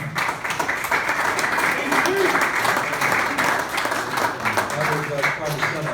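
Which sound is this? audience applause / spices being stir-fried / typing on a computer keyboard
audience applause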